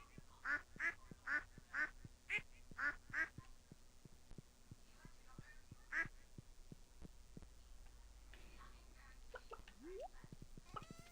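Ducks quack in Stardew Valley: a run of six evenly spaced quacks, then a single later one. The calls are clear and moderately loud over a low game hum and soft thumping beats, and other small game sounds come near the end.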